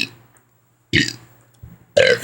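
A person burps repeatedly at a cat, three close, raspy belches separated by short pauses, the last two loud and drawn out, with no talk.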